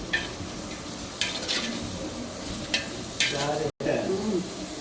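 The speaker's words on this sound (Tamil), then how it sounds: "அப்புறம் நல்லா வதக்கிடலாம்" Onions with rock salt sauté in a pan, a soft sizzle under a few sharp spoon scrapes and clinks against the metal, close by, with a brief voice in the background.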